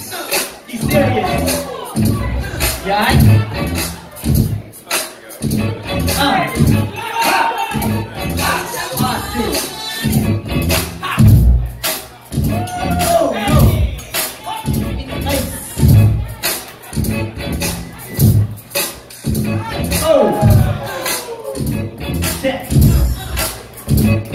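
A dense, roaring crowd fills a top-8 match at a gaming tournament, with steady cheering and shouting and voices talking loudly over it throughout.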